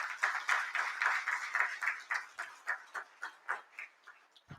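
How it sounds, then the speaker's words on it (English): Applause for valedictorians at a Liverpool John Moores University and upGrad graduation ceremony: a crowd clapping in a hall, dense at first, then thinning into a few rhythmic, scattered claps that fade out. "let's give round of applause for all our valedictorians"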